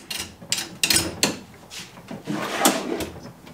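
Upper drawer of a camera gear compartment built into a Toyota Land Cruiser, sliding and bumping through several quick wooden knocks and scrapes, close and fairly loud, with no talking.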